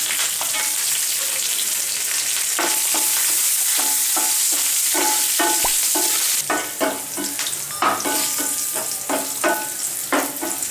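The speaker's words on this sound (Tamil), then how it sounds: "முந்திரி நல்லா செவர வரைக்கும் லைட்டாக வறுத்துக்கலாம்." Cashews with pepper, cumin, green chili, ginger and curry leaves fry in a pan for a pongal tempering: a loud, close sizzle punctuated by repeated spoon scrapes and taps, the hiss dropping somewhat partway through.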